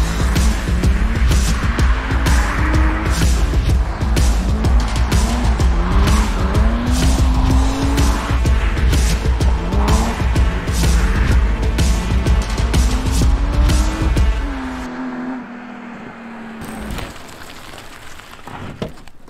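A BMW E36 drifts at full throttle, the engine roaring hard as the tires squeal in repeated rising wails for about fifteen seconds, then the car cuts off and fades to quieter ambience.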